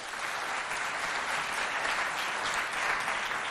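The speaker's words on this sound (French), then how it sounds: "Si vous êtes contents, applaudissez bien fort avant le début du match" An audience at a school quiz match in Mao applauds before play begins, a dense, even roar of many hands clapping that holds steady without pause and with no voices on top.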